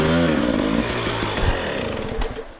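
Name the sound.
TC65 dirt bike engine revving on enduro trail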